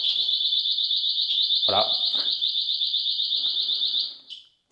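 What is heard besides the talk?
electric bike anti-theft alarm going off (LEMMO ONE MK2)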